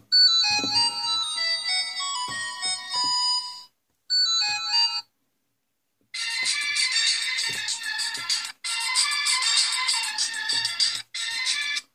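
A W90 Android smartwatch phone plays its ringtone at maximum volume, a bright electronic melody of repeated tonal phrases with short pauses between bursts, loud and close with no talking.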